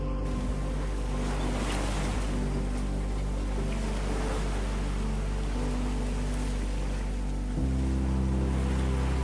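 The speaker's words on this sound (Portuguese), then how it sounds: "Um navio container." A large container ship passing close by on the open sea at dawn, heard as a steady low engine rumble and deep hull drone mixed with wind and rushing water, continuous and near, with no talk.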